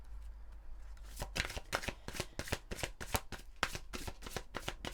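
Fairy oracle cards are shuffled by hand in a rapid series of crisp riffling flaps and slaps, close and fairly quiet, with a brief lull at the start before the steady rhythmic shuffling.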